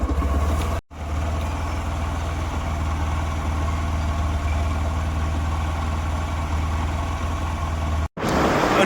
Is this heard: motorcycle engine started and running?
yes